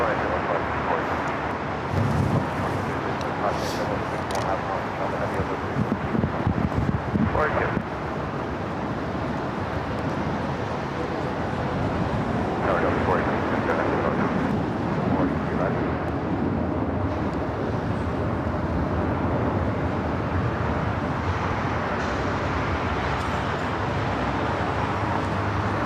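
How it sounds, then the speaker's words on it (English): A British Airways airliner arriving from London Heathrow touches down on a runway at LAX: a broad, continuous jet roar from a distance fills the whole stretch while people talk over it. "That is Speedbird, British Airways Flight 269, coming up from London Heathrow, touching down on the north side on the 2-4 right."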